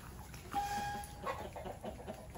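Chickens in a farm coop call out with one drawn-out cluck or squawk and a short follow-up note, close and moderately loud over a murmur of other hens.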